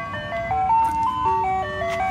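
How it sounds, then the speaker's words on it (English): An ice cream truck plays its tinkling electronic tune outdoors on a summer evening, a simple melody of bright repeated notes heard at moderate distance over low traffic rumble, with no talking. "Is it an actual ice cream truck?"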